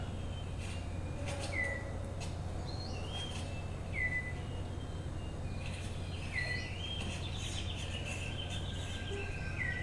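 A male six-plumed bird of paradise calls in a forest, giving repeated short whistled notes and rising chirps over steady insect and jungle ambience, moderately close.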